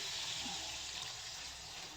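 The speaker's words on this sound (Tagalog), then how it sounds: "maglagay na tayo ng tubig" Water poured from a jug into a cooking pot of sautéed tomatoes and fish sauce for Filipino mussel soup, a steady close splashing gush running the whole time with no talk over it.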